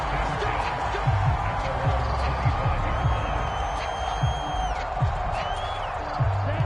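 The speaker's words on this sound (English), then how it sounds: "And the home crowd loves it." A stadium crowd in the Madden 25 football game roars steadily and loudly throughout, with a few whoops rising above it and commentary talk running underneath.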